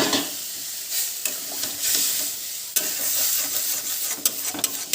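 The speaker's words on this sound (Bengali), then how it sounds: "জল দিয়ে দিন।" Water is poured into a pan of frying elephant foot yam and egg curry, setting off a loud, close hissing sizzle with stirring scrapes and clatter, steady and continuous with a sharp surge partway through.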